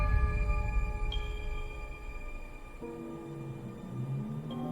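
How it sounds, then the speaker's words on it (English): Bartók's Music for Strings, Percussion and Celesta as heard in The Shining: eerie sustained string tones with a bright high note, then sliding low pitches entering, quiet and dark under faint rumble. "What you're hearing is Bela Bartok's music for strings,"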